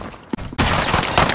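Gunfire in the Call of Duty: Modern Warfare video game: a couple of brief pops, then a loud, dense burst of shooting that fills the rest of the short moment.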